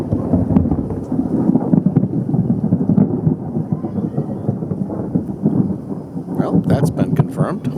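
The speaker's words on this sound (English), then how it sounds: "that's why the last thunder sounded like it was coming from that side of the house" Thunder rolls and rumbles continuously during Hurricane Irma on Eleuthera, with rain and wind noise underneath and a few sharper crackling sounds near the end.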